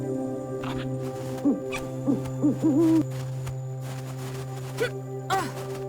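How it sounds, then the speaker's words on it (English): An owl in the Arctic game Never Alone hoots in a short run of wavering calls, followed later by a couple more single hoots, all over a steady droning ambient hum. "there's the Mr. Storytime Owl, dude"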